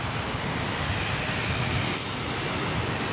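A Qantas jet departs runway 34 right at Sydney Airport, its engine roar a steady, broad rumble heard from a distance with no break over a few seconds.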